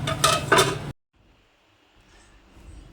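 A lid is set on a pot of potatoes cooking before aubergine is added, giving two quick close metallic clanks in a brief burst, then near silence with a faint low simmer.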